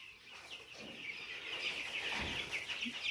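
Farm chickens, in a flock lively and active, cluck and chatter softly in a steady mix of calls, with a brief louder cluck near the end and no talking.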